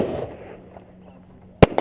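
A single sharp gunshot from a carbine rested on a barricade cracks out loud and close after a quiet stretch, followed by a brief echoing report.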